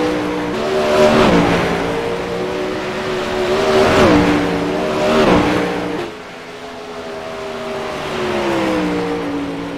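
A race car engine roars past in repeated surges, rising and falling as the car sweeps through a lap with tire squeal and a distant second engine humming, loud and close with no talk.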